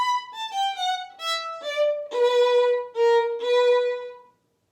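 A solo violin plays a Vivaldi passage, a clear sequence of bowed notes stepping downward and then settling into longer sustained tones before ending in silence.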